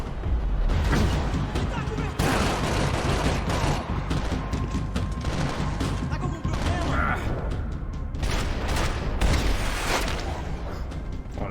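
Max Payne 3 combat with a grenade blast and continuous gunfire, loud dense crackling and booming throughout, with voices talking over the fight.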